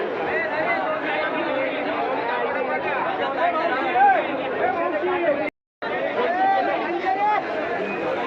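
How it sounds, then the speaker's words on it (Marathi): Crowd of buyers at a Nashik vegetable market gathered for okra, a close, continuous babble of overlapping voices with one person talking prominently, briefly cut to silence near the end. "भेंडीसाठी झालेली गर्दी पाहू शकते"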